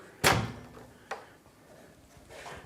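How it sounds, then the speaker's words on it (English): A GE microwave door is opened, with a sharp close clunk followed by a softer click and faint handling noise, in a quiet room. "So now all we need to do is just open the door."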